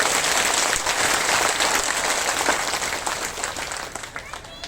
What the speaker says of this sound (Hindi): हाथ उठाकर ताली बजा दो ऊपर पर